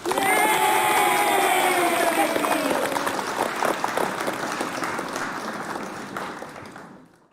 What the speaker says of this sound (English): Can you please clap for Don Walker's?